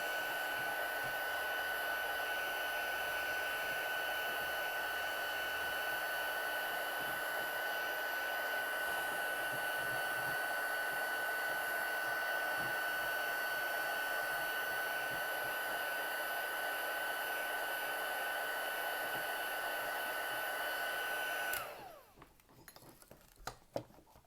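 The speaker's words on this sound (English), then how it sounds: "keeping the heat gun aimed away from my fingers" A heat gun blows with a steady, loud whirring hiss and a constant whine, running continuously before switching off with a few clicks at the end.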